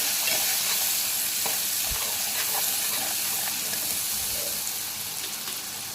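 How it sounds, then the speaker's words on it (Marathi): Spoon stirring garam masala into a sizzling mixture in a pan, a steady close frying hiss with scattered scraping clicks, no voices. "घ्या आता हे व्यवस्थित मिक्स करून घेऊ"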